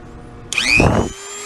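Dremel rotary tool fitted with a grindstone bit: a close, loud motor whine spins up, bites in with a short rough grinding burst, then eases back to a steady hum.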